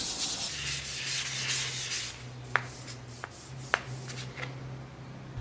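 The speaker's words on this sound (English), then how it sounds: "when I'm sanding through this primer, when I start to see the gray show up" Close, steady rasping of sandpaper rubbing through primer on a wooden buggy seat, strong at first and then softer, broken by three or four sharp taps.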